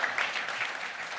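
Brief burst of dense audience applause at a tech conference keynote, welcoming the speaker to the stage, a steady wash of many hands clapping at moderate distance with no talking.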